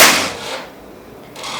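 A single sharp shot from a Bocap Predator 500cc air rifle cracks at the start, then its echo fades into quiet, with a faint click near the end.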